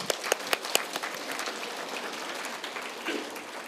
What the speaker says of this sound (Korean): 나가시는데 박수 한번 쳐주십시다.